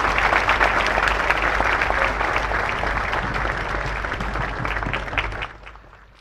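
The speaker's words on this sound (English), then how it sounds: "Please, a round of applause for His Excellency the President." Sustained applause from an audience at a national prayer breakfast, a large room of clapping hands that stays steady and dense for several seconds before tapering off near the end.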